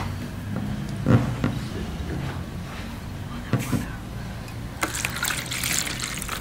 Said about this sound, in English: I put the water.